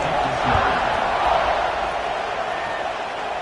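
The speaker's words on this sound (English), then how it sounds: "this crowd is buzzing after that last score" Stadium crowd buzzing in an Alabama vs Penn State college football video game, a steady broad roar of many voices that swells slightly early, then holds at an even, fairly loud level throughout.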